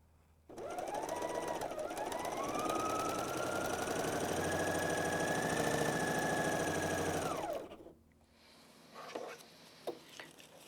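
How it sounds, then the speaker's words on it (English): A Bernina L 660 overlocker stitches a decorative rolled hem with texturized thread in the upper looper, running at a steady fast hum for about seven seconds before stopping, then light handling clicks follow nearby. "We start test sewing using the default settings."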